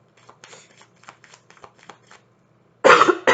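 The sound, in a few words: cough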